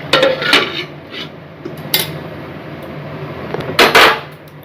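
A lid clanks down onto a cooking pot of bottle gourd and moong dal in a Bengali home kitchen, with a few sharp metallic knocks and scrapes spread over a few seconds against a low background hum.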